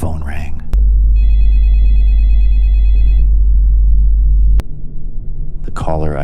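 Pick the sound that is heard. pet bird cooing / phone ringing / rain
phone ringing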